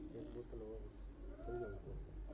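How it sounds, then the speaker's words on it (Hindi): English pigeons, birds said to date from around 1992, coo softly in a few rounded, wavering calls, faint and close, with low background noise. "ये देख लो, ये अंग्रेज कबूतर हैं जी"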